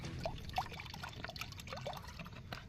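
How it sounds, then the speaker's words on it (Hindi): Water pours and trickles into a pot over an outdoor cooking setup while tea is being made, with small splashes and drips, faint and close, with no talking. "चलिए अब इसमें पानी डालते हैं रेसिपी के लिए।"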